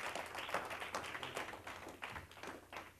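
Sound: congregation applause, hand clapping

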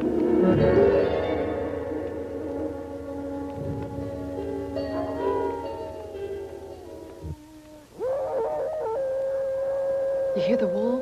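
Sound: wolves howling

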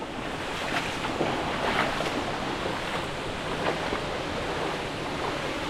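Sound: water in the holding pool of a 150-year-old water mill

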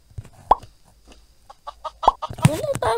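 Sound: chicken in Mini World video game

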